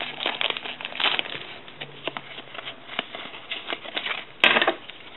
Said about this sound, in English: I hate the pack that I can't just rip open.